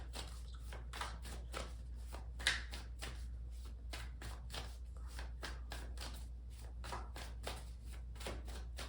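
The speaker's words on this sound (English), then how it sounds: "I'm going to pull out one card and then one for each of the other positions." Tarot cards being shuffled and pulled by hand, a quick steady run of soft riffling flicks close to the listener, quiet over a low background hum.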